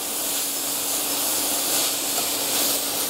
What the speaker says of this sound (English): I'm going to use a little bit of water that I'm just going to pour in to the pan, which is going to allow that kale to steam even more.